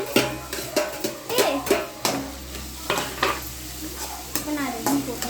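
Beans and carrots being stirred and sautéed in a home kitchen pan, with repeated scraping spoon strokes against the pan over a soft sizzle and a brief faint voice.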